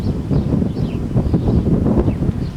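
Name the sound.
wind blowing outdoors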